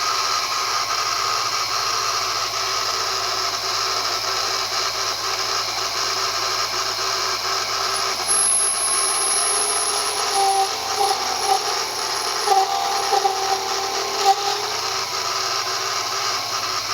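A Unimat DB 200 SL lathe runs steadily at moderate volume, giving a continuous motor whine and hum that holds throughout, with a few light knocks near the end.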